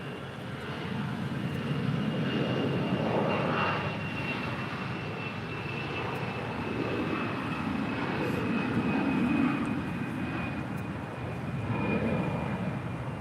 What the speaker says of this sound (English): That was Delta Airlines 1258 departing to New Orleans